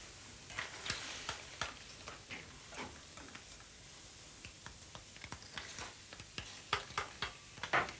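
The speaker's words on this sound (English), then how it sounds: "now I just add into my sauce, stir a little bit of mustard into that" Dijon mustard being stirred into a sizzling sauce with clams in a pan, quiet frying hiss under repeated soft clicks and scrapes of the spoon against the pan, close up with no talking.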